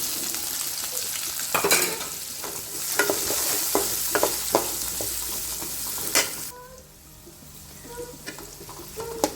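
Onions sizzle and fry in a pan with asafoetida and ginger-chili-garlic paste, with steady hiss and repeated scraping stirs; the sizzle drops quieter near the end.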